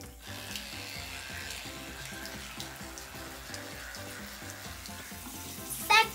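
A tap runs steadily into a sink for several seconds during morning tooth brushing, with a faint splashing hiss and no voices.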